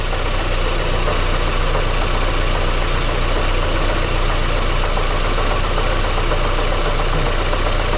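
A 2005 Daewoo Lanos engine idles with a misfire while the third cylinder is disconnected. It gives a steady, loud, close rumble with a slightly uneven low throb.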